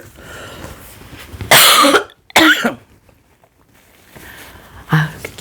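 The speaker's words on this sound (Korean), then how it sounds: "기침이 자꾸 나와서." A person coughs in harsh bursts during a lecture, with a loud double cough in the middle and another shorter cough near the end, separated by quiet moments.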